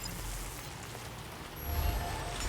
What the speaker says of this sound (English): but then it's starting to rain.